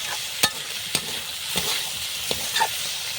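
Fried prawns being stirred with banana flower in a pan, giving a steady sizzle with several sharp scraping clicks of the spatula spaced irregularly across the stretch.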